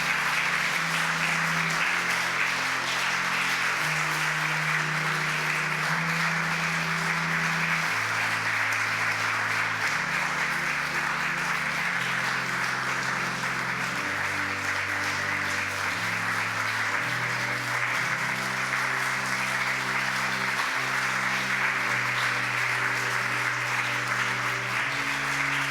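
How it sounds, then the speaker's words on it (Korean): A church congregation applauds in long, dense, steady clapping that runs unbroken throughout, while low organ or keyboard notes sound underneath. "우리 십자가를 걸 때 우리 박수로 격려해 줬으면 좋겠습니다."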